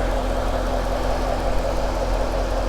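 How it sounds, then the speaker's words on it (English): A 2016 Chevrolet Corvette Stingray's V8 engine idles steadily with a smooth, low rumble and a faint hum, no other sounds over it. "this one is super quiet, idles really smooth"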